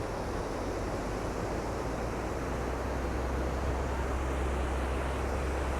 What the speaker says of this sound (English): This is Ocean Beach in San Francisco, and we're watching some surfers catch some morning waves.